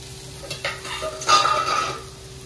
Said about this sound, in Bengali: আলু ভাজা করছে মানে উচ্ছে আলু ভাজা করছে